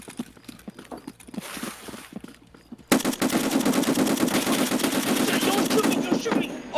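Rapid bursts of gunfire in the Escape from Tarkov video game, a sparse run of shots followed by a dense, loud, sustained volley of automatic fire.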